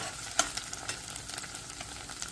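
Tomato paste fries in oil in a pan, a soft continuous sizzle broken by a sharp utensil clink and repeated light stirring scrapes, with no talking.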